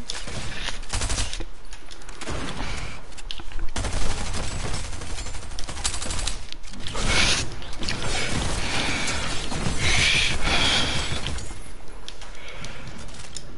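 Rapid bursts of video game gunfire, heavy on SMG shots, rattling in dense irregular volleys with mechanical clicks and clatter between them, loud and close.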